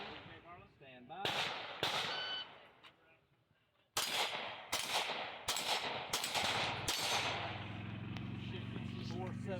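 Sharp gunshots crack at a shooting match, about seven distinct reports in an irregular series with a short gap in the middle. Voices talk faintly beneath them.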